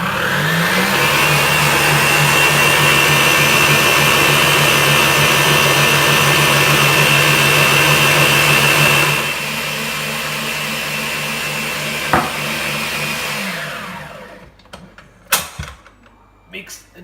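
An electric mixer whips egg whites as caster sugar goes in for pavlova, a loud steady motor whine that drops to a lower speed partway, then stops, followed by a few clinks and knocks.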